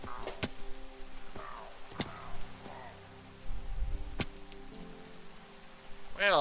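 In-game Minecraft rain hisses steadily beneath sharp clicks, thumps and tonal game sounds, all fairly quiet and continuous across the short stretch.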